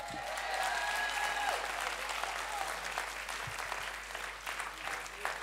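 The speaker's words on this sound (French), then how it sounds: "Vous allez pouvoir l'applaudir encore une fois, s'il vous plaît." Audience applause at a Vendée Globe press conference for sailor Jean Le Cam, a steady, even wash of clapping heard from a distance with a sustained whistle early on, fading slightly toward the end.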